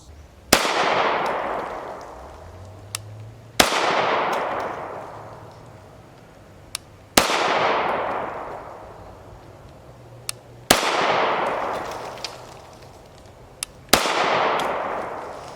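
Five loud, sharp gunshots from an HK USP 9mm handgun, fired one at a time about three and a half seconds apart, each followed by a long outdoor echo that fades away.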